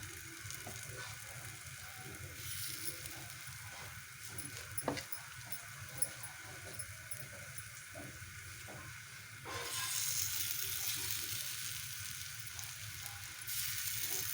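A snack frying in oil on a tawa griddle, a soft continuous sizzle with a few faint clicks, growing louder toward the end.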